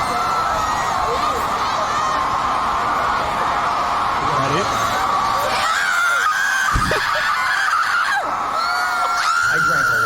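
A girl fan screams over and over in a played video, shrill sustained shrieks mixed with crowd noise and cheering, loud and continuous for about ten seconds.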